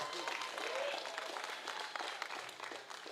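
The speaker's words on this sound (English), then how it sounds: "A round of applause for Alvin Burke." Audience applause for Alvin Burke at a Crucian Christmas Festival cultural night, a broad wash of crowd clapping with faint cheering mixed in, moderately distant and fading slightly toward the end.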